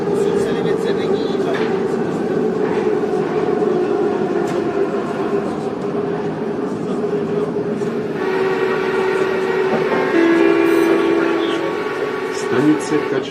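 A Soviet-built Ečs metro train runs on Prague metro line C, its steady rumbling motor drone and wheel noise filling a moving carriage, with a tonal whine rising near the end; people talk faintly over the ride.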